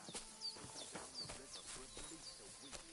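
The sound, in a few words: horse hooves clip-clopping in video game Kingdom Come Deliverance 2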